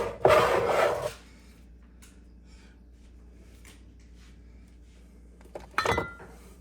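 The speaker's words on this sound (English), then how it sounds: "I'm getting out the cookie jar." Cookie jar pulled from a pantry shelf, a burst of rubbing and scraping at the start, a near silent pause, then a short clink and scrape as it is set down.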